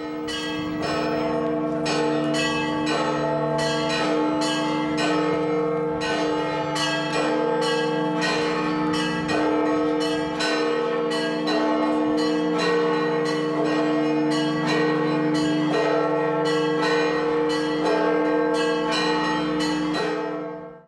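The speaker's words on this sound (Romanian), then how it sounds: "iată sunetul clopotelor Bisericii Sfântului Mormânt" Church bells of the Church of the Holy Sepulchre in Jerusalem ring loudly and continuously, overlapping strikes forming a dense, rhythmic peal that carries on without pause throughout.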